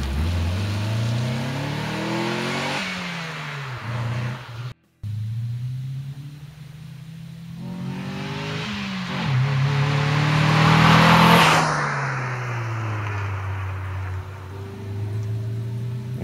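An MG MGF sports car engine revs and accelerates while driving, rising through several gear-like pitch sweeps with a brief cutout, loud and close throughout with no voices.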